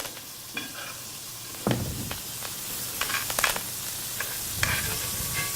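A steak sizzles in a pan as it is basted with butter, a steady close frying hiss broken by scattered spoon scrapes and spattering pops.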